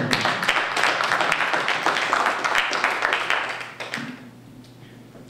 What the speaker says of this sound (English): So if you could give them all a round of applause.